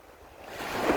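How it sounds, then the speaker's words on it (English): Autumn wind blows outdoors as a rising gust that swells to a loud rush buffeting the microphone within a second, with no talk. "Sorry if I'm shouting, it's a bit windy"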